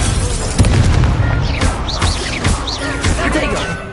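A Confringo fire spell explodes in Hogwarts Legacy with a series of booming blasts and sharp bursts amid whooshing magical effects, loud and busy, with a voice shouting spell names over the combat.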